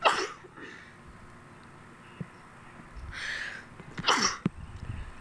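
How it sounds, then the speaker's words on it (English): A person sneezes outdoors in a yard, with a quick sharp burst near the start and two louder ones close together later, over quiet background. "Sorry, I sneeze a lot."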